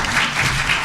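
Audience at a news-media conference panel applauding, a dense, steady wash of clapping that holds evenly at moderate loudness for under a second.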